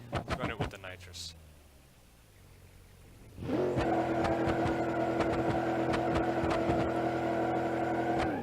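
A BeamNG.drive junkyard drag car on nitrous starts with a few sharp pops, goes quiet for a moment, then settles into a loud, steady, buzzing engine drone at high revs that holds to the end.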